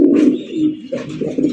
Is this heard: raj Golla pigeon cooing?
yes